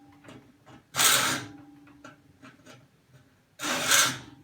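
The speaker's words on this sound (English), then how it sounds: "You notice when I'm filing, I'm just filing forward, which is the cut stroke of the file." Hand file cutting sheet metal in a fabrication shop, two loud rasping forward strokes about three seconds apart, with quieter scraping and handling noise between them.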